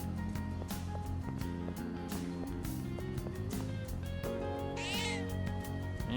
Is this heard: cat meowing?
yes